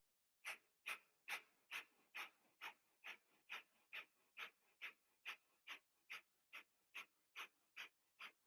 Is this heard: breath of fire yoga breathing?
yes